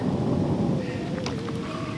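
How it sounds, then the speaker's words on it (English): A storm blows up over freshwater while fishing for catfish, with a low rumbling roar like distant thunder and steady wind buffeting the microphone. "We had a storm blow up"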